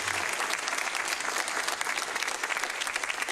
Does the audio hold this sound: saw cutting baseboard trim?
no